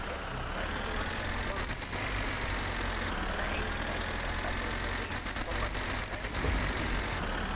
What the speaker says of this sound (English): he's definitely changed the way this thing revs